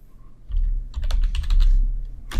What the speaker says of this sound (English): I just want to get you used to typing the code